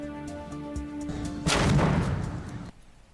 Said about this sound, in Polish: popularne strzelanie z karbidu, a dokładniej z wybuchowej mieszaniny acetylenu z tlenem z powietrza